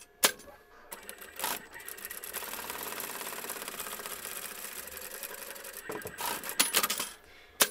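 A sewing machine stitches a fabric seam on a plush lamb toy's romper in one steady, rapid rattling run of several seconds, framed by clicks and handling noises at the start and end.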